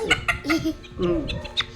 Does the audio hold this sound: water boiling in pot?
no